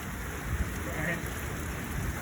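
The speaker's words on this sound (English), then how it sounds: "Oh, now we got the hard rain, guys." Hard rain beats down steadily during a strong, windy North Dakota storm, a dense continuous wash of noise with gusts rumbling low underneath.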